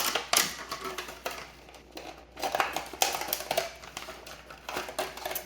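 An IMIHOME utility knife slicing slowly through material, giving a series of close, crisp scraping and crackling cuts in short irregular bursts.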